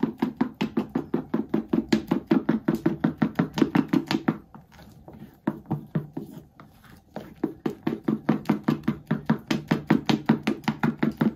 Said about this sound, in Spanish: Empezar a batir otra vez, que se bata bien la yemita.